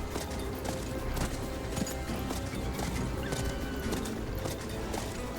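A horse gallops in the Western video game Call of Juarez during a stagecoach chase across the prairie, with steady rapid hoofbeats under clattering game noise, moderately loud and continuous.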